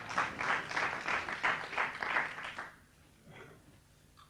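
An audience at a magic performance claps in a loose, rhythmic patter for a few seconds before it tapers off into near quiet with faint sounds.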